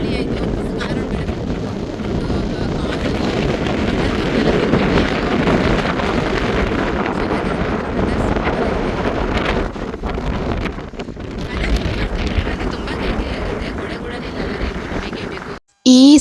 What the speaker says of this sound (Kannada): ವಾಯ್ಸ್ ಕೇಳಿಸುತ್ತೆ ಇಲ್ವಾ ಗೊತ್ತಿಲ್ಲ, ಅಷ್ಟು ಗಾಳಿ ಬರ್ತಾ ಇದೆ